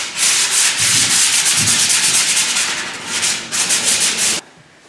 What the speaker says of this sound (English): The table leg's in a pretty good shape, so we're just giving a very quick sand off with some fine sandpaper.